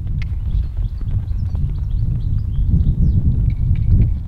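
Horse trotting steadily on a lunge line, with a continuous rhythmic clip-clop of hooves on the ground, close by and moderately loud, with faint birdsong in the background.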